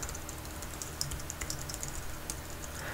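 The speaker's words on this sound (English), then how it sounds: "type in your username here." Rapid, light key clicks as a username is typed on a computer keyboard, continuous and fairly close with no talking.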